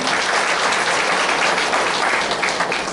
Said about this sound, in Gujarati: તો આ બધા જ માટે એકવાર ફરીથી જોરદાર તાળી થઈ જાય